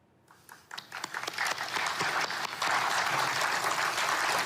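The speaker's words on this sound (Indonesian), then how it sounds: "Tepuk tangan hadirin menyambut resmi dibentuknya Dewan Perdamaian Gaza" An audience bursts into applause as the Gaza Peace Council document is signed, starting faint with scattered claps and swelling into steady, dense clapping that holds to the end.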